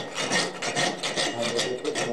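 A blacksmith rasps a file over a freshly forged metal blade in steady, repeated strokes, a close, gritty scraping rhythm with no voices.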